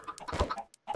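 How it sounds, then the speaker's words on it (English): Chickens in Minecraft give quick clucks, several short squawking bursts in a row, close and moderately loud, with a brief pause near the end. "I hope you noticed that when the chickens cried out"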